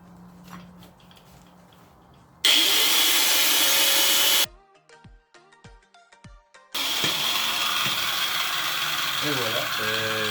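A car muffler pipe is cut in bursts of loud, harsh saw noise. Between the bursts come quieter stretches of clicking, ratcheting mechanical sounds.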